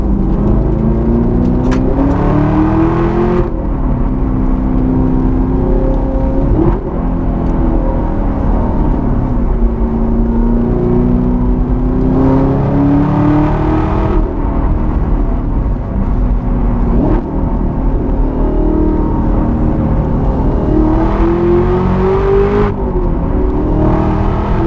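A 650 hp 2017 Chevrolet Camaro ZL1 engine pulls hard through the gears, its loud steady roar rising in pitch, dropping at each shift and climbing again, continuous and close for the whole stretch.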